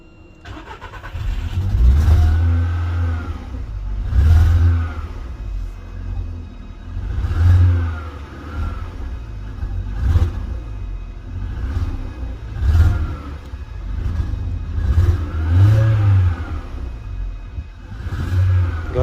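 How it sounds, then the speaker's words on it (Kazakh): A Volkswagen Polo with an undiagnosed fault is revved repeatedly in a repair check, its engine rising and falling in loud, close bursts about every two to three seconds over a low idle rumble. "Газ басып отсаң, тұрады малый оборотта."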